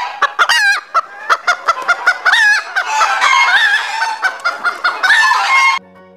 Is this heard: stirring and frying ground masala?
no